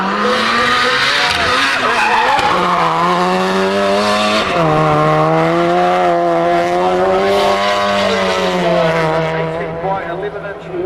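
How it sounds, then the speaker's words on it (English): Nissan S14 time attack race car making about 380 kW, on 11-inch-wide rear rims, heard at the World Time Attack Challenge: a loud, sustained engine howl with rising and falling pitch as the car slides, under a race commentator's voice throughout. "The S14, 380 kilowatts of power."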